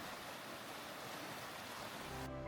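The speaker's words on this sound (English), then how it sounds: "You don't need music, you just listen to the water." Steady, broad rush of flowing water from a nearby waterfall in Switzerland, loud and continuous, with no voices.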